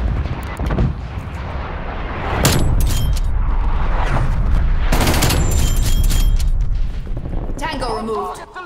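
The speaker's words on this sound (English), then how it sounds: "Artillery awaiting target coordinates. Wraith requesting artillery strike." An artillery strike in a military shooter video game: heavy booms and rumbling blasts rolling into a sustained roar, loud and close, with voices speaking over it.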